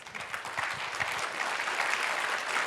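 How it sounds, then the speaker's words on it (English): An audience at a climate impact dinner event applauds steadily, a dense wash of clapping that holds at an even level throughout. "please give her a round of applause"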